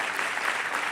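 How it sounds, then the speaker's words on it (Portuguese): A brief, dense wash of applause from a church congregation during a Portuguese-language service, a continuous crowd clapping sound heard on its own. "Vamos aplaudir a Ele."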